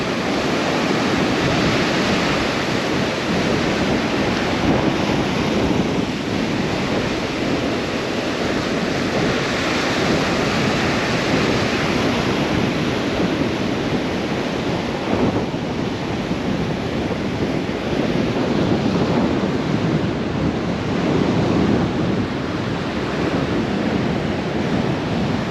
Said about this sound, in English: Just where that surf's kicked up